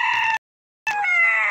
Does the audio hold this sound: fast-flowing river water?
no